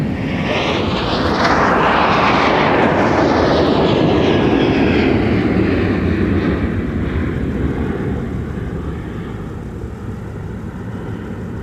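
A Sun Country airliner takes off at MSP airport, its broad jet roar swelling loud and close, then slowly fading as it climbs away.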